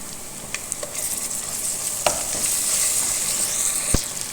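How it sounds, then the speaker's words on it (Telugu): Ginger garlic paste frying with softened onions in a pan, a bright steady sizzle close by, broken by a few clinks and scrapes of a stirring spoon, no talking. "అల్లం వెల్లుల్లి పేస్ట్ కూడా ఫ్రై అయిన తర్వాత"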